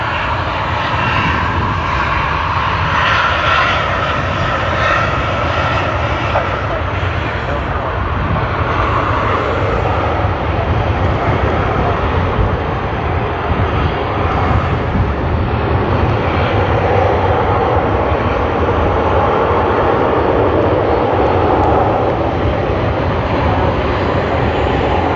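A China Eastern airliner on flight MU562 from Sydney Airport to Shanghai Pudong roars loudly and continuously, a heavy sustained jet engine rumble that holds steady throughout.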